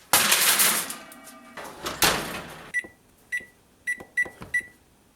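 Clattering and a metallic bang as a covered pan goes onto the middle oven rack, followed by a door thump and a series of five short electronic beeps from the oven controls.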